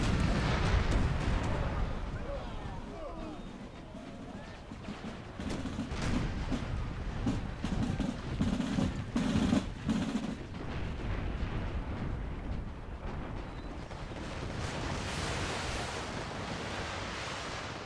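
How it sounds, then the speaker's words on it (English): A continuous artillery barrage in a Civil War battle game, with dense, overlapping booms and rumbling blasts that roll on for the whole stretch, loud and close at first and then churning steadily at a slightly lower level. "Marching into this artillery fire is just hell."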